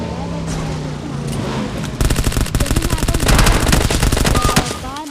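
Rapid automatic gunfire from the Vector in PUBG Mobile, loud sustained bursts of close shots after a quieter stretch of ambient game noise.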